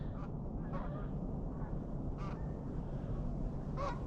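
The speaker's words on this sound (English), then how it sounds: "Some more geese coming over." Faint honks from geese flying overhead sound a few times at a distance over a low rumble of wind, in a Calgary park in winter.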